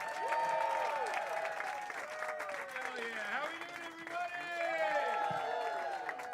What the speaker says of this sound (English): everyone start clapping right now for my friend Brandon Kieffer